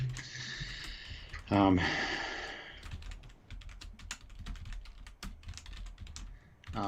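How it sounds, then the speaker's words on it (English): Rapid clicking of keys on a computer keyboard, close and irregular, with a short burst of voice near the start and quiet breathy sounds. "Samuel didn't mute his microphone, so I can hear him typing"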